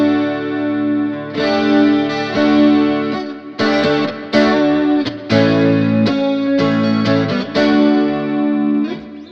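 An electric guitar with a shimmering chorus effect plays a soft rock style tone, strumming and picking lush chords and short phrases in a relaxed rhythm, close and clear with no talking.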